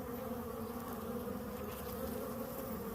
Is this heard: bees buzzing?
yes